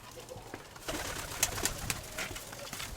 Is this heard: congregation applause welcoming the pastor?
no